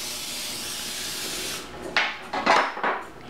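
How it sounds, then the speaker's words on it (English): Butter spray hisses from a can onto a toaster oven tray in a long continuous burst, then several shorter sharp spritzes follow close to the mic. "So I'm going to take butter spray and just spray it."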